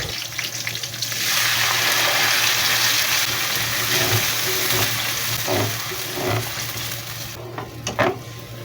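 A blended spice paste hits a hot pan and sizzles loudly and steadily, with stirring scrapes and small spattering pops near the end.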